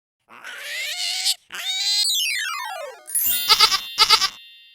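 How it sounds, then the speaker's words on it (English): A goat bleats in several loud, close calls, some wavering and drawn out, others in quick stuttering pulses, separated by short pauses. "Goat,"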